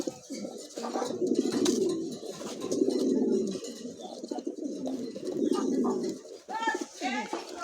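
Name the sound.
pigeon cooing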